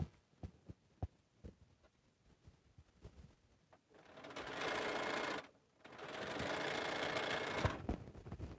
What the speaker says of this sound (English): Sew another seam.